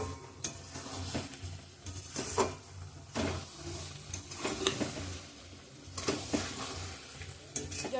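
Olive pickle and jaggery get stirred in a pot, with a spoon scraping and clinking against the metal in uneven strokes over a faint sizzle and no voices.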